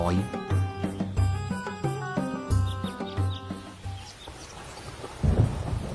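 Low thunder rumbles beneath steady rainfall in a forest while melodic music plays over it, with a heavier rolling boom near the end.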